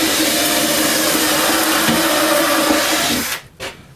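A cordless drill bores into scrap wood in one continuous loud whine lasting about three seconds, then cuts off, followed by a short brief burst.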